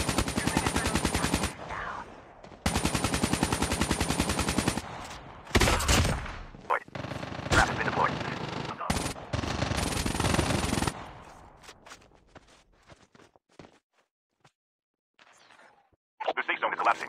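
M4 rifle fire in the battle royale mode of Call of Duty Mobile: long sustained automatic bursts separated by short pauses, loud and close, followed by quieter scattered shots and a brief final burst.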